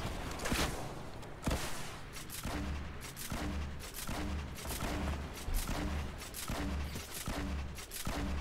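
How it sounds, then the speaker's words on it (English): Video game gunfire rattles in repeated bursts, loud and close, with heavy booming impacts and rhythmic low thuds running underneath throughout. "This guy's shooting at you."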